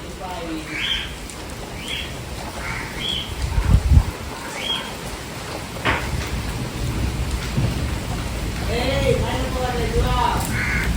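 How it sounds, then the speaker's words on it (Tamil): Rain hisses steadily outdoors, growing heavier toward the end, while birds chirp in short calls and a low rumble swells around the middle; people talk nearby. "மழை வருது."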